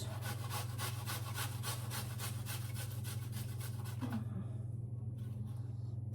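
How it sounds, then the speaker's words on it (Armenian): Garlic is grated against a grater in quick, rhythmic rasping strokes, close and steady over a low background hum, stopping near the end. "հաջորդը քերում եմ սխտոր"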